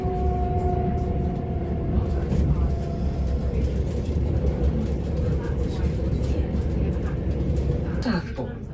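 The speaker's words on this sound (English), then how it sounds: "This train is the service to Brighton, calling at Chichester, Barnham, Ford, Angmering, Worthing, Lancing, Shoreham-by-Sea, Southwood, Hove." Inside a passenger train on the service to Brighton along the Sussex coast, a constant low rumble of wheels and motors runs under a clear onboard announcement voice.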